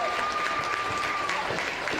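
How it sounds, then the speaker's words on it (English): Spectators at a women's division 2 grand final clap in appreciation of the losing Penrith side, a dense steady round of applause with a commentator speaking over it. "Crowd shows their appreciation from the girls from Penrith."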